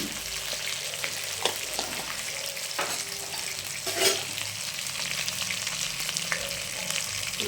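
Tomatoes fry with ginger-cumin paste in a pan, giving a steady moderate sizzle crackle with sharp spoon taps and scrapes from stirring at irregular moments and one brief louder splutter midway.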